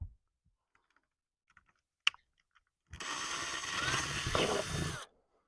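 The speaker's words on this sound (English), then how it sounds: "just try to drill these holes straight" Power drill boring a small pilot hole for an RV LED tail light, a steady whine lasting about two seconds after a few light clicks and handling taps, close and fairly loud.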